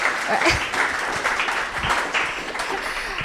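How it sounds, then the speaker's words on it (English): An audience at a fireside chat event on podcasting claps for a speaker, a dense round of applause from a modest crowd with a few low thumps and faint voices mixed in. "please let's clap for Eddie."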